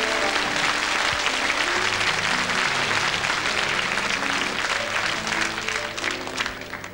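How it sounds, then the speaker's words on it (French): Studio audience on a French children's talent show applauds loudly for the first young contestant, a dense steady roar of clapping with music underneath that tapers off toward the end. "on applaudit très fort la première candidate"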